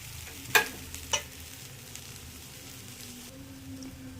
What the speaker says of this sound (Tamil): ஒரு 2 நிமிஷம் இந்த மாதிரி நல்லா வதக்குனதுக்கப்புறம் அடுப்பு ஆஃப் பண்ணிடலாம்